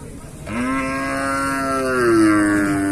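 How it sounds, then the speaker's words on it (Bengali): A crossbred dairy cow at a Bangladeshi cattle market gives one long, drawn-out moo that rises slightly and then sags, lasting about two and a half seconds over a low murmur of market background noise. "দর্শক আপনারা দেখতে পাচ্ছেন ক্রস জাতীয় একটি গাভী"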